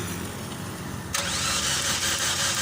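A Chevrolet Optra that has trouble starting is cranked and its engine catches, a sudden shift from steady cranking hiss into a loud, even close-up idle with no speech over it.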